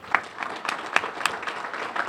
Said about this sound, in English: All right, one big round of applause for our Lieutenant Governor for coming out.